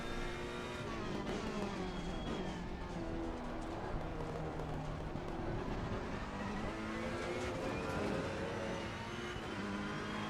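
Several race car engines in a racing video game at the Donington track whine and rise in pitch together, sweeping up and down through gear changes in a steady, dense roar with no talk.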